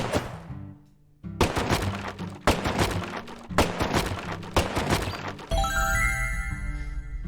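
Video game weapon gunfire in loud, repeated bursts of rapid shots separated by short pauses, followed by a ringing metallic tail at the end.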